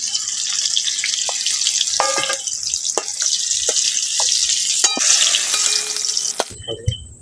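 Prawns fry in hot oil in a pan after bitter gourd pieces are removed, giving a loud, close sizzle with stirring scrapes and clinks, then an abrupt cut to quieter dripping near the end.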